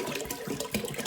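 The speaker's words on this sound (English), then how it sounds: "let's zoom in on the water going in here" Water pours steadily into a one-gallon container, a continuous broadband rushing splash with slight fluctuations, close and fairly loud throughout, with no talking.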